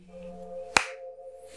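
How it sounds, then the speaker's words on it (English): A single sharp hand clap used to sync sound rings out once, loud and close, over a faint steady hum. "Sound clap."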